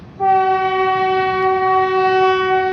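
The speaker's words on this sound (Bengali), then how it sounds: "এখান দিয়ে যাচ্ছে বন্দে ভারত, যেটা পুরী যাচ্ছে অ্যাকচুয়ালি" A Vande Bharat express train bound for Puri, heard from a rooftop, sounds a loud sustained horn blast that starts sharply and holds steadily over a low rumble of the passing train.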